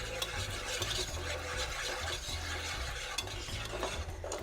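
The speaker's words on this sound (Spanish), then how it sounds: "Tengan mucho cuidado de batir y batir y batir para que no se nos vayan a formar los" A roux of butter and wheat flour whisked steadily in a hot pan for a béchamel, with a continuous scraping, stirring rhythm over a soft sizzle, close and moderately loud, no talking.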